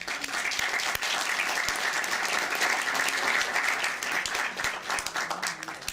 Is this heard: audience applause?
yes